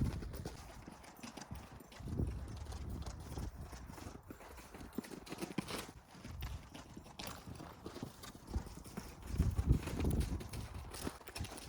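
Hoofbeats of a Rocky Mountain Horse mare at a steady forward walk, each step a soft, dull thud repeating in an even rhythm at close range with no voices over them.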